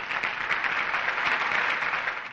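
An audience applauding to welcome a speaker at an event in an Indian film, a dense, even wash of clapping that holds steady for the whole stretch with no voices over it.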